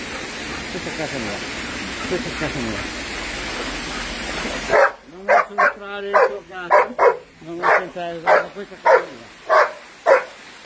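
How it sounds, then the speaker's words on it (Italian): A dog barks repeatedly in a steady rhythm, loud and close, after a stretch of someone talking over rushing water in the background. "questo è il mio cane"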